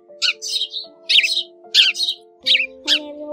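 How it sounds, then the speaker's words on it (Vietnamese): Tree sparrow calls played as a bird-trapping lure recording: a series of bright, clear chirps in close repeated bursts, loud and near, over a steady tonal backdrop with no talking. "những bản nhạc có tiếng chim, trồn, sóc và các loại thú rừng nhỏ"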